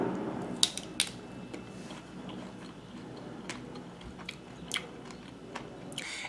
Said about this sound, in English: the rind gives it a little crunch